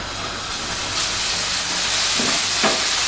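Bacon for spaghetti carbonara fries in a hot pan with a loud, steady hiss and crackle, broken by a few sharper sizzling bursts near the end.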